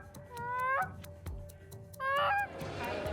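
A six-year-old Cree child on the bank of the Waswanipi River imitates goose calls to draw in geese, giving loud, rising honking cries in short bursts of two to three with brief gaps, close to the microphone.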